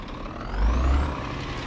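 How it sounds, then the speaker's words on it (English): Truck engine in the On The Road driving game, a steady low rumble that swells briefly in the middle and then settles back, heard alone with no talk. "the sound of the engine"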